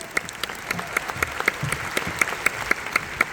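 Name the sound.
audience applause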